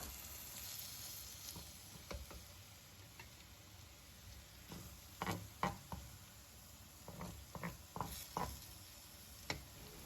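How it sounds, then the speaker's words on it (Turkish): Minced meat frying with onions in a pan gives a quiet, continuous sizzle, broken by scattered crackles and the clicks and scrapes of stirring. "kıymamızı ekleyerek kavurmaya başlıyoruz soğanlarla beraber"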